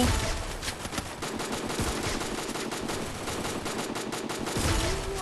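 Sustained rapid gunfire in a video game, a dense fusillade of automatic shots running throughout at steady loudness, close and continuous with no pauses.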